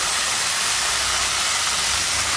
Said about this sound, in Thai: จากนั้นเราก็นำคอหมูย่าง ลงไปย่างได้เลยค่ะ